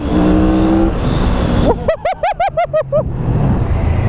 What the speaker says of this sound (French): Bon, hein, on va tester l'accélération. Je suis actuellement en première